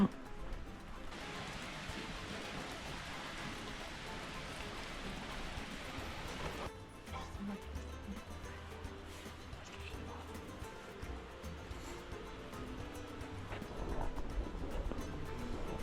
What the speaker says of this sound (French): s'est mis à pleuvoir.